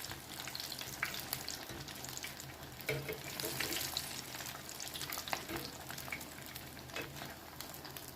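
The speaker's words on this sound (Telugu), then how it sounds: "గోల్డెన్ బ్రౌన్ అయ్యే వరకు ఇది వేయించుకోవాలి వేయగానే మాత్రం కదపకూడదండి" Semiya burelu, vermicelli fritters, frying in oil until golden brown, with a soft, steady bubbling sizzle and occasional stirring clatter; quiet and close, with no talking.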